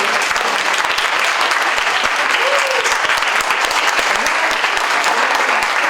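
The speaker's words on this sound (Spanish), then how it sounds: "Un aplauso a la doctora Paola, que está aquí con nosotros." A large crowd at an academic social sciences event claps loudly and continuously, a dense, steady wall of applause with a few faint voices mixed in.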